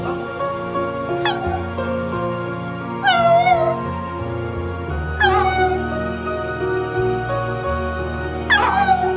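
A dog whines and cries in drawn-out, wavering whimpers, several separate cries over steady background music.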